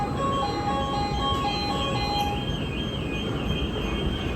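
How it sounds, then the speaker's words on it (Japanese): A warning alarm on a Shinkansen platform at JR Okayama Station, a steady electronic tone pattern ringing over continuous station and train noise. "突然ホームに警報音が鳴り響きます。"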